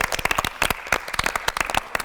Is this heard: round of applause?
yes